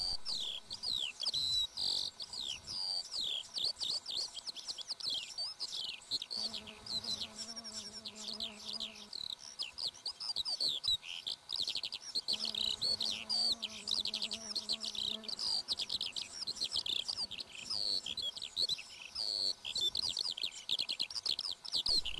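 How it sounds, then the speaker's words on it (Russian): Sparrows feed their chicks at a nest on a larch on a steppe hillside, with rapid high chirps running continuously, joined by buzzing insects and a few lower bird calls in the middle, moderately faint with no talk. "Воробьи кормят птенцов."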